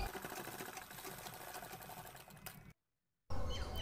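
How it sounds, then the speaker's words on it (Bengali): A sewing machine stitching fabric for a small doll dress, a steady fast rhythmic mechanical whir that runs close and continuous, stops abruptly into brief silence, then resumes. "তো এখানে সেলাই করে নেব।"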